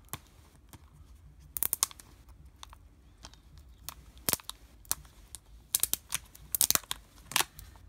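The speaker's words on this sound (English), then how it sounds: "Get that plastic out of the way." Crinkling and tearing of plastic wrap pulled off a video game box, sharp crackly bursts in irregular clusters, close up against a quiet background with no talking.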